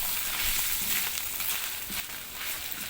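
Ingredients for pansit mikki bihon with bologna sizzle steadily in oil in a pan, a continuous close crackling hiss with scattered pops and no talking.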